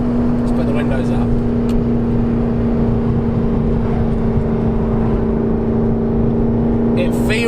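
McLaren 650S Spider engine droning steadily from inside the car while driving, a loud constant cabin hum with no clear revving changes.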